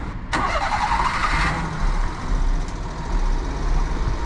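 A twin-cam Daihatsu Hijet kei truck, apparently needing carburetor work, cranks briefly and catches, then settles into a slightly uneven idle that stays close and fairly loud throughout.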